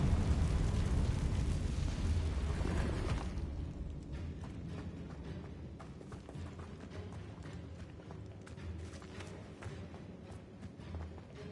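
A Confringo fire spell blast erupts in Hogwarts Legacy, a loud roaring burst for the first few seconds that dies down into quieter rumbling and scattered thuds, with no speech.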